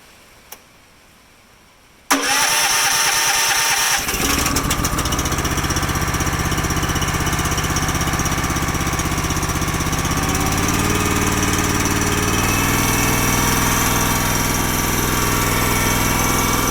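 A Honda GX240 small engine starts after about two seconds of quiet, then runs loud and close with the choke on, a steady drone that surges unevenly with no voices over it.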